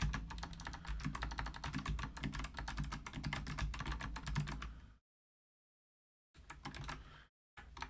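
Rapid keystrokes clatter on a computer keyboard during coding work, dense and close for about five seconds, then a brief silence before another short burst of typing, with no speech.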